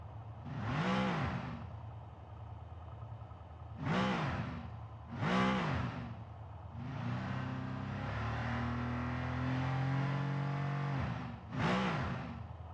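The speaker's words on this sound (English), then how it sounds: "let's have a listen to the Merc." A Mercedes race car engine in the RENNSPORT racing simulator, several sharp revs rising and falling in quick bursts, then a sustained climbing drone through the gears before one more rev, loud and alone.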